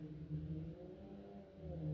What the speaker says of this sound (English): these cars start revving their engines